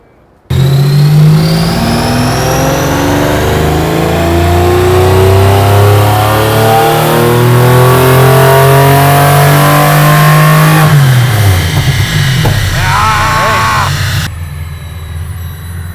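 A V12 engine in a Foxbody Mustang revs hard on a dyno, climbing steadily in pitch, a loud sustained scream that drops off sharply near the end, then idles lower.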